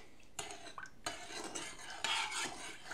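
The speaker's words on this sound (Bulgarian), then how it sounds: "Разбърквам." Milk with sugar and vanilla sugar stirred in a pot on a stovetop for a sweet pumpkin roll cream, a spoon scraping and clinking against the sides in uneven strokes, close and fairly quiet.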